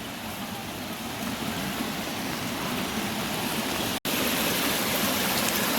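A swollen stream in the Konkan countryside rushes after a cloudburst and heavy rain, making a dense, continuous roar of flowing water that is loud and steady throughout, broken only by a momentary dropout.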